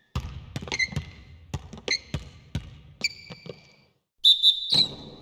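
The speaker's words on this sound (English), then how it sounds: "the officials whistle a foul on the shot" A referee's whistle blows for a foul in the basketball game NBA 2K14, with several short shrill blasts among sharp ball bounces and court thuds, ending in a loud sustained whistle.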